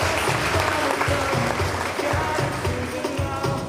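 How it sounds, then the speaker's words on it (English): Loud, sustained applause from a large audience at the 2013 Sanfest launch event in Trinidad, a dense, continuous roar of many hands clapping that holds steady from start to finish. "So let's give them a great round of applause."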